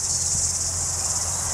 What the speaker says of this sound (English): You might be able to hear the cicadas.